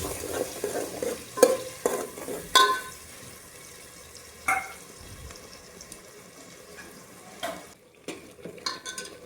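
Tomato-onion gravy for tawo undhiyu sizzles steadily in a pan while a spoon stirs and scrapes in scattered, sharp knocks; close and moderately loud, with no voices.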